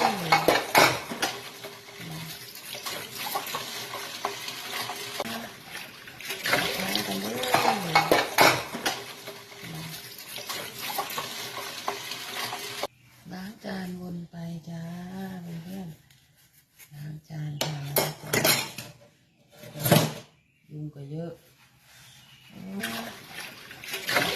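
Dishes and cutlery clatter and clink with splashes of water, steady at first, then sparser clanks alternating with a person speaking.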